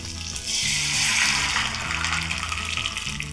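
Water pours steadily into a pan of cooked dal, a bright hissing splash that runs on without pause at moderate volume.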